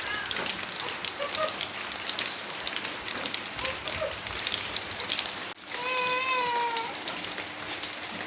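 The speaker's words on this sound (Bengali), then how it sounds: "টিপ টিপ বৃষ্টি আবার শুরু হয়ে গেল।" Light rain patters steadily on surfaces in a village, a soft, even hiss of drops, and near the end a brief high wavering cry rises over it.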